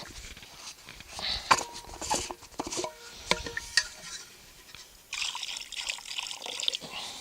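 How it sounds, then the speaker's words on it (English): Water trickles and splashes in uneven bursts as it is poured into a pan over a campfire at a mountain campsite, close and moderately loud, with small clinks between pours. "I'm going to fill the pan up with water"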